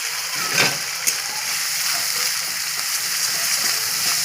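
Onion, ginger and garlic paste fries steadily in hot oil, a close, loud, continuous sizzle with a brief splutter near the start and no talk.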